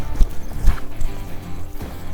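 Horse loping during a riding session, its hoofbeats coming as a few irregular thuds close by against a low, busy background, with no talk over them.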